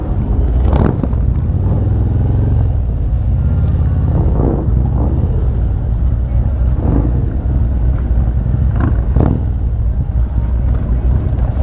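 Idling and revving motorcycle engines at a group ride, including a Harley-Davidson Low Rider with a 131 cubic-inch engine: a loud continuous low rumble with occasional throttle blips close by.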